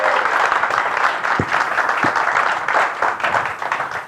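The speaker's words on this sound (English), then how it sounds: "can we have a massive round of applause, please, for Chris Wilkins?" Audience applause at a property investment retreat, a steady wash of many hands clapping that stays dense and loud for the whole span, with no talk over it.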